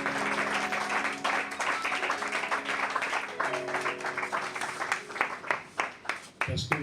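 Church congregation applauding and cheering for Jesus, a loud wash of clapping and voices that continues with sustained singing or shouting, ending in scattered claps and rustling.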